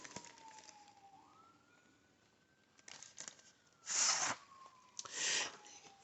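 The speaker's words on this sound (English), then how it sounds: "That's the ambulance in the background." An ambulance siren wails faintly in the distance, a thin steady tone sliding slowly in pitch, while louder nearby handling noises and bursts of rustling sound up close.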